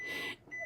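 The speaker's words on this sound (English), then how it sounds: "if I don't have one alarm going off, I got another one going off. That was my printer this time." A household printer sounds an electronic alarm: a steady high beep tone held for a moment, breaking off briefly, then resuming, close and fairly clear in a quiet room.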